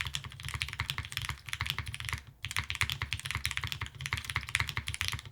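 Rapid typing on a Juna mechanical keyboard in a top-mount configuration with keycaps fitted, close and crisp clacking keystrokes in a fast irregular rhythm, with a brief pause midway.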